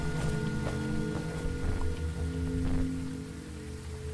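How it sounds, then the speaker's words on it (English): Steady rain falling in the Phasmophobia video game on an outdoor map, a constant patter with scattered drop hits over a low ambient hum, moderately loud and fading slightly toward the end. "They got like realistic raining physics and everything."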